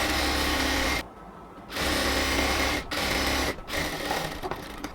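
Sewing machine stitching cotton ladies' pants, loud steady mechanical whirring in close bursts broken by short pauses as the fabric is guided, with no talking.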